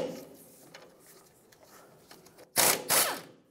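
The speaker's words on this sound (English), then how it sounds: "Then use your 19mm socket and remove the nut." A 19mm socket on a ratchet loosening a ball joint nut on a 1996-2002 Toyota 4Runner during a control arm bushing job: faint clicks and handling noise, then two loud, close bursts of ratcheting near the end.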